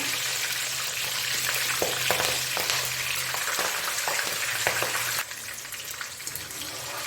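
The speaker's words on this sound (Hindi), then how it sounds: "और इसको फ्राई करके मैं निकालूंगी।" Beef fries in hot oil with a steady, loud, close sizzle and faint crackles throughout; the hiss drops slightly in level near the end but carries on, and no one speaks.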